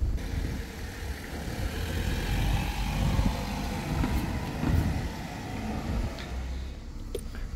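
A Peugeot 208 pulls away for a road test after an emissions-system repair, its engine giving a steady, fairly loud rumble that swells and eases slightly as it moves off, with no voices.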